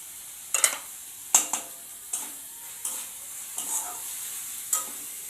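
Masala paste with turmeric, salt and chili powder fries in a pan for egg curry, a gentle sizzle punctuated by about six evenly spaced, close spatula scrapes and taps, with no voices.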